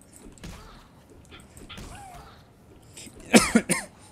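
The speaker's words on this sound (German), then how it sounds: "ich muss gerade husten" A few harsh, close coughs burst out in a quick cluster near the end, louder than the faint background game sounds and scattered breathy noises before them.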